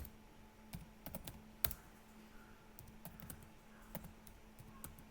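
Scattered, faint computer keyboard keystrokes, irregular single taps and small clusters over a quiet background hum, with nobody speaking.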